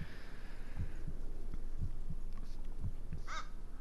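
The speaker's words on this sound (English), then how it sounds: "got a little faint heartbeat going in the background there." A faint, slow heartbeat thuds low in the background of the Blair Witch horror video game, a few soft beats spread across the stretch alongside a dull ambient hum and a brief higher eerie cry near the end.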